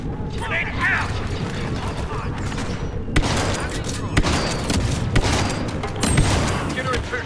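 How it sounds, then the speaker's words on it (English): Grenade explosion amid continuous gunfire in the Star Wars Battlefront II video game, dense loud blasts and repeated sharp shots with booming impacts throughout, overlaid by game voices calling out. "Grenade out!"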